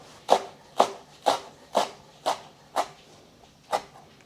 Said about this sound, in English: I'm also going to chop up some cilantro.